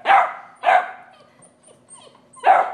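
Seven-week-old European basset hound puppies give three sharp, close barks spaced about a second apart, with soft whimpers in the quiet gaps.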